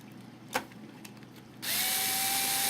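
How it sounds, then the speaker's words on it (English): An electric drill bores pilot holes into a model airplane wing for a Phoenix Models Sukhoi SU-31, with a few light clicks first, then the motor whirring loud and steady up close. "Now we've got to take our drill, and you got your pilot holes already there."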